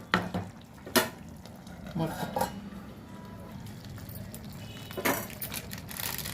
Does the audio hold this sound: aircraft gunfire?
no